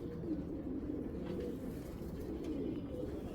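A Girbaz pigeon coos in a low, steady, continuous murmur that runs unbroken and fairly close, with no talk over it.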